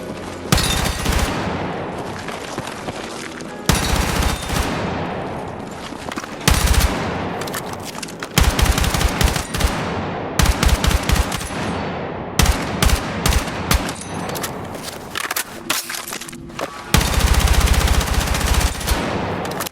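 Bursts of automatic fire from an M4A1 rifle in Battlefield 6 crack out loud and close, coming in repeated volleys of varying length separated by brief pauses, with no talking.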